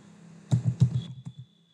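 Keys are tapped in a short quick burst of about half a dozen clicks on a keyboard, close and clear, then silence.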